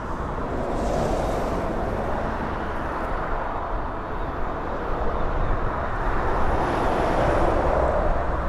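A jet aircraft rolls along the runway at East Midlands Airport, a broad steady engine roar that swells slightly toward the end, heard from a distance without talk.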